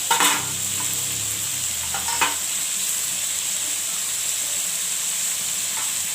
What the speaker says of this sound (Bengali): বিরিয়ানির জন্য চিকেনটা বানানো হচ্ছে।